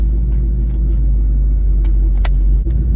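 A Ford Mustang drives along with a steady, loud low engine rumble and road noise throughout, a few brief higher clicks and ticks rising over the continuous drone.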